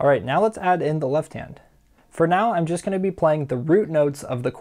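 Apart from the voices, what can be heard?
None of the usual background noises is heard.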